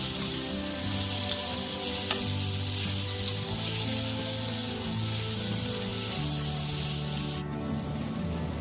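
Boiled amla with a pinch of asafoetida sizzling and frying steadily in hot oil while being stirred, a continuous close crackle that stops abruptly near the end.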